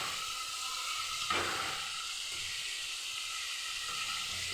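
Pointed gourd (potol) slices hit hot spiced oil for potol kasundi, a sudden sizzling burst near the middle that settles into a steady, moderately loud frying hiss.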